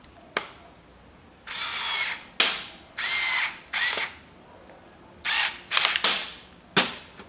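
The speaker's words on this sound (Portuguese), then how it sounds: "Eu vou colocar aqui a parafusadeira no torque mínimo" An electric screwdriver set to minimum torque tightens screws on a Yamaha XV 250 Virago air filter housing, giving short whirring bursts separated by sharp clicks, close and fairly quiet, with no talking.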